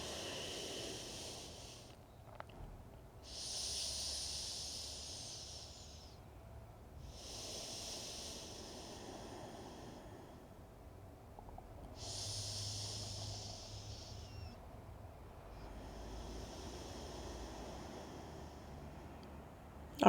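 Slow, deep breathing in a supported yoga forward fold, four long airy breath cycles close to the mic, each drawn-out exhale hissing softly, with brief pauses between.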